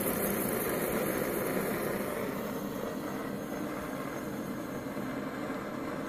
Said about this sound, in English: This engine can run all day just with propane.